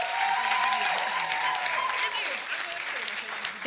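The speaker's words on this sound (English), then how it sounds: "Please give them a round of applause." An audience at a public sector debate final applauds the debaters, a dense even patter of many hands that gradually thins toward the end, with a faint voice underneath.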